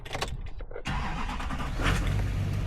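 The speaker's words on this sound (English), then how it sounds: "So let's start my truck up." A truck engine cranks and turns over, then settles into a steady idle. The start is near and fairly loud, with no talk.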